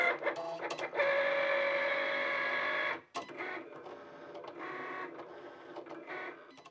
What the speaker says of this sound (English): So now what the Cricut machine is doing is it's going through and scanning that outer box.